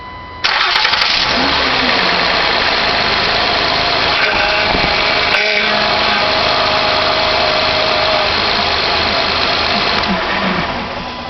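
A 2009 Honda Accord 3.5L V6 engine cranks and catches, then runs at a steady, loud idle for about ten seconds before cutting off near the end.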